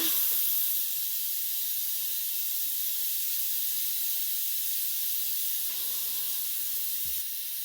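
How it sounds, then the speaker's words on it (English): Steam jets out of an Instant Pot pressure-release vent in a loud, constant hiss that holds nearly unchanged for several seconds before it shifts slightly and cuts off near the end. "The next thing you do for your Instant Pot is you hit the press to vent thing."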